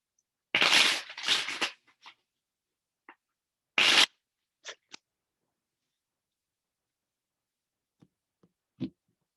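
Tarot cards are shuffled in a few quick riffling bursts, followed by scattered soft taps and slides of cards being handled in a quiet room.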